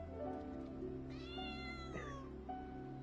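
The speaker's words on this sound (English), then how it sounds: "Oh, hi cat in the background that I cannot see." A cat meows in the background, one drawn-out rising and falling meow midway, faint under a steady hum of game audio, with no voices.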